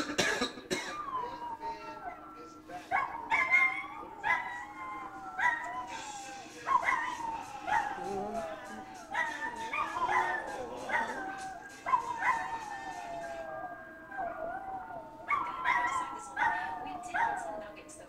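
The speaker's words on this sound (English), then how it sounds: "The sounds of dogs barking and helicopters hovering at night" Several dogs bark, yip and whimper at night in Los Angeles, a sequence of irregular barks and short cries at moderate distance over a low steady hum, without clear talk.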